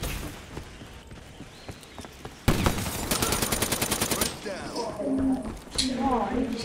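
Rapid automatic gunfire in Call of Duty Black Ops 3 rattles out in a sustained, evenly spaced burst, loud and close, with quieter scattered shots and game sounds around it and a voice talking at times.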